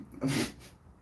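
A single short, breathy sneeze bursts out quickly and fades, fairly faint.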